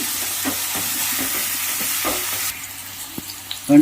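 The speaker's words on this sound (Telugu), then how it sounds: "మీడియం సైజు పచ్చిమిరకాయలు కూడా వేసుకోండి బాగా ఫ్రై చేసుకున్నాం" Medium-sized green chillies stirred and fried in a pan, a steady close sizzle of hot oil with soft scraping stir strokes throughout and a sharper clatter near the end.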